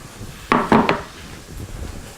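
A pan of roasted peppers being pulled from an oven, heard as three quick clattering metallic knocks of pan against rack close by, followed by quiet rustling.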